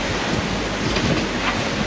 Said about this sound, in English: Those waves are really big as well. They're about 4 or 5 meters,